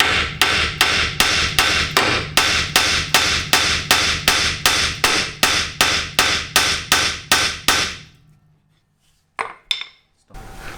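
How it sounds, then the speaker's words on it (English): Rapid, evenly spaced metallic hammer strikes on a nut on a BMW E30 front hub, around twenty loud blows in a steady rhythm, then a pause with a couple of lighter clanks. "and I'm going to hit it with a hammer."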